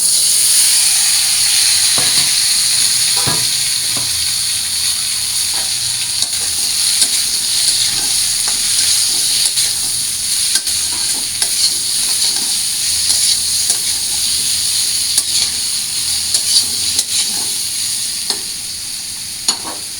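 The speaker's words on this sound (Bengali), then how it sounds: "তো এখন এগুলো ভাজি করে নিই।" Boiled vegetable stalks fry in a pan, a loud, continuous sizzle with occasional clicks and scrapes from stirring throughout.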